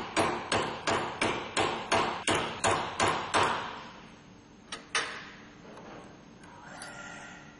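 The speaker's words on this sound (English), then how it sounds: "with a rubber hammer, we push the new filter into position." A rubber hammer taps sharply about nine times in a steady rhythm, close by, pushing a new filter into a Denso common rail injector, then two more isolated knocks follow after a pause.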